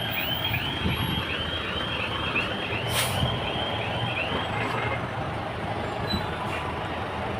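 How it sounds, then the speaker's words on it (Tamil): Steady heavy engine rumble from idling and creeping trucks, with a brief hiss of an air brake and faint distant beeping in the background. "ஃபுல்லு ட்ராஃபிக் ஜாம் எவ்வளோ லைனாக இருக்குது பாருங்க"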